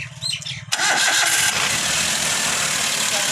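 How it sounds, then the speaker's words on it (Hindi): Maruti Suzuki Alto 800 engine after a rebuild cranking briefly and catching, then settling into a steady loud idle close by. "मैं करूँगा इसको स्टार्ट।"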